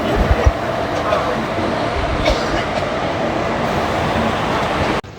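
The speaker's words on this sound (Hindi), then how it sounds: "हॉल्ट के बाद अपने ट्रेन का डिपार्चर हो गया है मध्य प्रदेश की राजधानी भोपाल जंक्शन से।" The Tamil Nadu Sampark Kranti Express pulls out of Bhopal Junction with a steady, dense rumble and rattle close by, holding level throughout before cutting off abruptly at the end.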